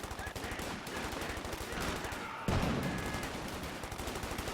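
Anti-tank gun fires a single heavy shot about halfway through during a Company of Heroes 2 battle, a loud sudden blast over a dense, steady din of gunfire and combat noise.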